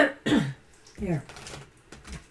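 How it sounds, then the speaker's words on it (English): A person clears their throat a couple of times, close and fairly quiet, with short raspy bursts separated by brief pauses. "Clearing my throat again."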